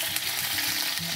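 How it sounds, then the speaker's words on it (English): A salmon fillet sears in a hot frying pan with a dense, even hiss of sizzling fat, continuous and close, with no voices over the brief stretch. "I'm just going to turn the fish over and seal it on that side and turn it back"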